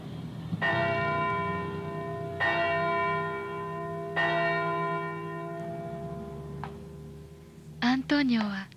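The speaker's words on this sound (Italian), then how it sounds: "Ti piace il suono della campana?" A church bell rings three times with long ringing decay between strikes, loud and close, followed by a few brief, higher sounds near the end.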